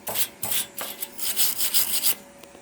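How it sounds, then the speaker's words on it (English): Wire brush scrubbing over a freshly welded metal go-kart steering part, a series of close, raspy strokes in uneven rhythm with brief pauses between them. "Brush it off real good."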